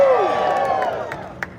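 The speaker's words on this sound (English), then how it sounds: "Everybody doesn't like it, cheer." A Kings Island Coasterstock Q&A audience lets out a short burst of cheering and shouting that starts loud and quickly tails off, with a sharp knock near the end.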